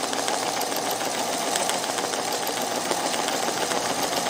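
A home sewing machine runs a steady straight stitch for machine embroidery, a continuous close mechanical whir with rapid needle clatter and no pauses or talk.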